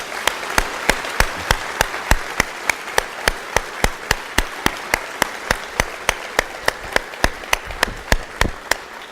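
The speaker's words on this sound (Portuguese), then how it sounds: "Você pode dar um aplauso a Jesus?" A church congregation applauds during a Portuguese-language sermon, loud and close, with claps falling into a steady, regular rhythm that lasts the whole stretch.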